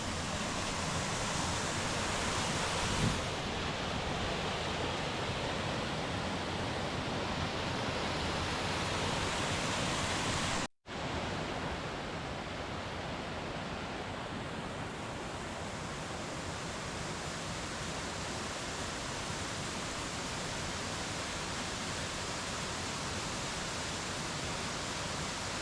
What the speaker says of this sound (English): lots of water coming over the waterfall.